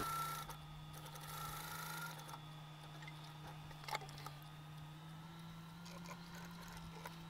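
A sewing machine runs steadily while stitching a boat neckline on a garment, giving a continuous, moderately quiet mechanical hum with a faint click partway through.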